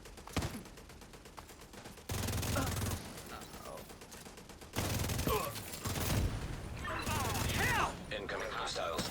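Bursts of automatic turret gunfire in a video game, coming in loud sustained volleys with mechanical clatter and game voice alerts mixed in, as the firing grows denser toward the end.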